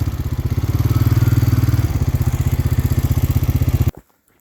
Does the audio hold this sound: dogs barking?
no